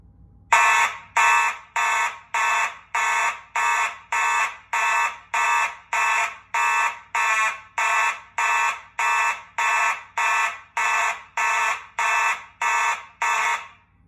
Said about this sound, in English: this was the time of the mechanical horn strobes